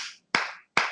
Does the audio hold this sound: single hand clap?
yes